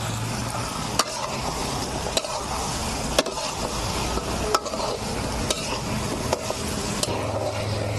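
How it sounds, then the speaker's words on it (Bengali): Chicken being sautéed with spice masala in a pan for a Bihari chicken curry, a constant sizzle broken roughly once a second by a sharp spatula knock against the pan, with no talk. "চিকেন দিয়ে আমি কিছুক্ষণ কষিয়ে নেব।"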